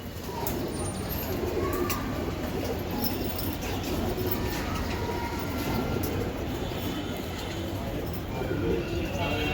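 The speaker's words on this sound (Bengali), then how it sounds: "খুবই স্পেশাল কবুতর" Racing pigeons cooing softly amid a constant dense rumble of background noise, with people talking nearby throughout.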